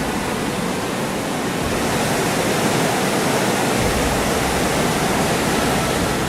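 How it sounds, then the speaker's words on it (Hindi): Baspa river in monsoon flood at Chitkul, India, roaring as a continuous loud broadband rush of heavy whitewater heard from a bridge, steady throughout with no other sounds. "इस ब्रिज पर खड़े होते ही आप बास्पा रिवर की असली पावर को फील"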